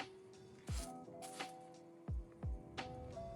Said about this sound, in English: you want to make sure you just give it a little mist spray